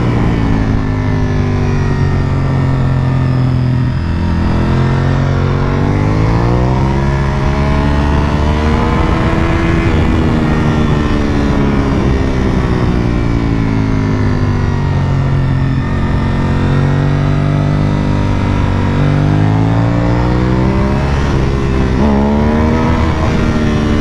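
Motorcycle engine droning steadily while riding along a twisty road with sharp left-right bends, the pitch rising and falling with throttle and shifts, loud and close throughout with no talk.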